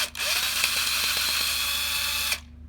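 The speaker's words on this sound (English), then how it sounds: "He's going to unscrew this bearing bracket. He's going to remove 2 screws." A power tool whirs steadily for about two seconds, backing screws out of the bearing bracket on a fireplace blower motor, close and loud with a rattling tone before stopping abruptly.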